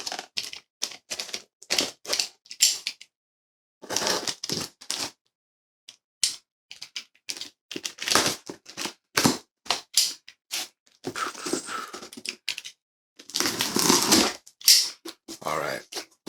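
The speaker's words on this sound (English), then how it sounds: "we're going to go ahead and cut into this box and see what's inside." Cardboard shipping box being cut open to unpack a book haul, with sharp bursts of slicing, scraping and crinkling at close range broken by short pauses, growing louder and rougher near the end.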